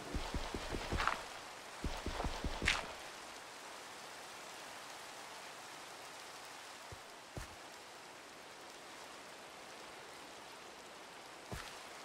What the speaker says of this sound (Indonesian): Masih hujan guys di atas.